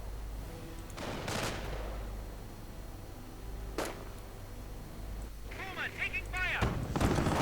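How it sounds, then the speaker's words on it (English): Machine gun and other battlefield fire in the Company of Heroes strategy game, scattered bursts and booms at varying distances in a noisy mix, with voices talking over it. "MG opens up."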